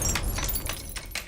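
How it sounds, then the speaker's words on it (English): A picture frame dropped and shattering as a film sound effect, with clattering bursts of breaking glass and rattling fragments over a couple of impacts, fairly loud. "she drops a picture frame which she was carrying, and it makes an awful shattering sound"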